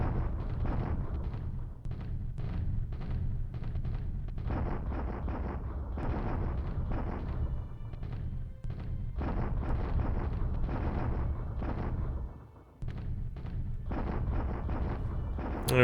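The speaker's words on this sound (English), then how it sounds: "It is a lot of artillery pieces here." Continuous artillery fire in the War in the Pacific strategy game, with dense low booms and bursts running on without pause, heavy and rumbling, with a brief lull near the end.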